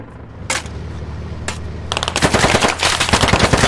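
Rapid automatic gunfire from a vehicle in the game Squad, a single burst, then another, then a sustained loud chattering stream close by.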